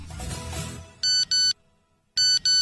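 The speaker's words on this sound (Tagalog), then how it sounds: "Oh, may nag-text sa cellphone mo." A cellphone sounds its text message notification tone: two quick bright electronic chirps, a short pause, then two more, loud and clean after a brief stretch of room noise.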